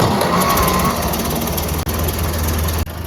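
A Ford 8N tractor engine starting up, a loud, rough, knocking engine rumble close by, with two brief dropouts in the sound.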